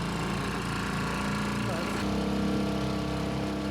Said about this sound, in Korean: 모터가 달린 수상보트다.